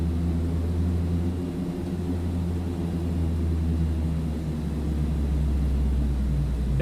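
Aircraft taking off in Microsoft Flight Simulator 2020, a loud, steady engine drone with deep rumbling tones that holds constant throughout, with no talking.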